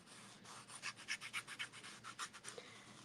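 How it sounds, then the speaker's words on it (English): A finger tool burnishes glitter into a watercolor thank-you card, giving soft, close, rhythmic rubbing strokes. They are quiet and steady, with no voices. "Use my finger tool, burnish that in."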